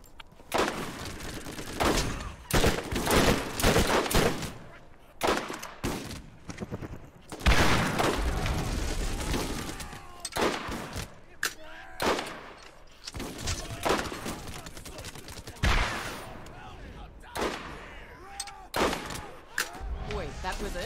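Pistol gunfire in the shooter Borderlands, with loud repeated shots and bursts scattered across a long combat stretch, mixed with explosions and game sounds, and a voice talking at times.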